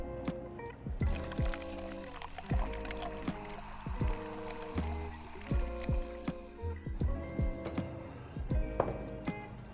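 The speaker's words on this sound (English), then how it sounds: "top with soda water. I'm using Topo Chico, just a mineral water" Topo Chico mineral water poured to top a tequila cocktail in a glass, with repeated bubbly splashing and gurgling pours in short bursts, close up and alone.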